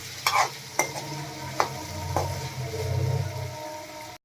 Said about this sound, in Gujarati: આપણે આવી રીતના મિક્સ કરતા જઈશું ને ટમેટાને એકદમ પકાવી લેવાના છે